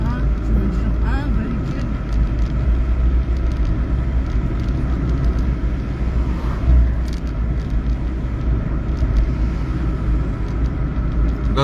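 Vehicles pass on a road between Mamoudzou and Dzoumogné in Mayotte, with a steady engine and tyre rumble and a low drone throughout, loud and close, swelling slightly near the middle.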